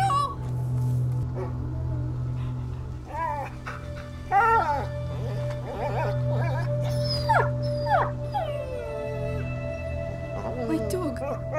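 Dog howling and whimpering in the video game A Plague Tale: Innocence, rising and falling cries repeated over a low steady hum, with characters speaking around it.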